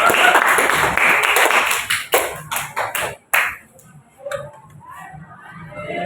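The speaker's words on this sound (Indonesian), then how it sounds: "Ya, tepuk tangan untuk kita semua." A small group claps hands together in a lively burst that fades out after about three seconds, with a few scattered claps and voices afterward.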